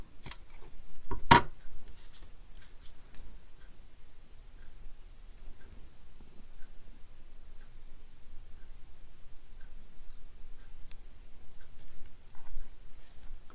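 Sharp snips of scissors cutting paper for a craft, a couple of crisp cuts near the start followed by faint rustling and handling, quiet and close.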